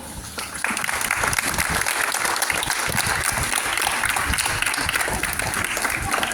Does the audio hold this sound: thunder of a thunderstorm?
no